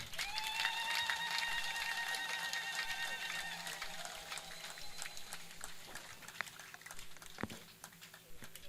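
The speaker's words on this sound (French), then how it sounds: "Acclamons très fort." At a church service honouring visiting African kings, a crowd applauds with scattered, uneven claps beneath a shrill sustained tone, probably a whistle or ululation, that fades after a few seconds.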